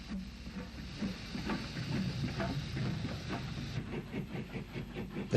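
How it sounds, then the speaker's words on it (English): Steam tank locomotive, sister engine number 9, hauling a short works train at Monkstown in Ulster in the 1960s; a steady, mid-distance rumble with rhythmic exhaust beats, hissing steam and faint wheel clatter. "Sister engine number 9 hauls a short works train at Monkstown"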